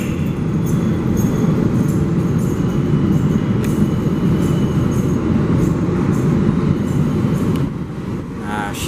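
A New York subway train rumbles steadily into the South Ferry terminal station, a loud continuous roar with rattling wheels and a brief squeal near the end.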